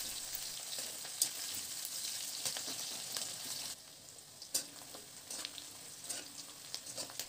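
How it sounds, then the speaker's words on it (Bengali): Chopped onion frying in mustard oil with dried red chilli and cumin, a steady close sizzle with occasional stirring scrapes and crackles, dropping slightly softer halfway through. "পেঁয়াজটাকে হালকা একটু ভেজে নেব"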